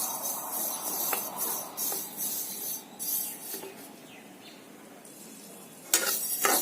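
Sesame seeds dry-roasting in a pan over low to medium gas for laru, with a soft steady crackle and hiss and occasional scraping stirs of a utensil against the pan, plus a few louder clinks near the end.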